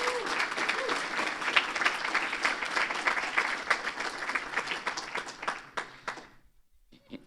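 A crowd at a school evening event applauds steadily, dense clapping filling the room for several seconds before tapering off and fading to near silence.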